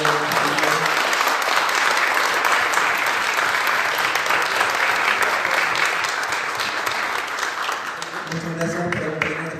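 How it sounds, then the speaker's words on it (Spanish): Sustained audience applause at an academic colloquium on urban segregation, loud and continuous for several seconds before thinning out as a voice begins speaking at the end. "aprovecho de pedirles un gran aplauso para Luis, Liliana, Daniela y Diego,"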